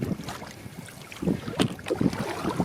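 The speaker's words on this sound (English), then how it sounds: "the wind picked up and we're starting to get blown back a little bit" Gusty wind sweeps over Loch Shiel in Scotland during a canoe trip, buffeting the microphone with rough, blustery rumbles and soft rushing surges.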